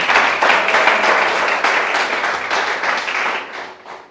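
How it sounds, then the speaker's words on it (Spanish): A church congregation breaks into dense, sustained applause, many hands clapping together loudly in a large room, fading toward the end. "Dale un aplauso al Señor."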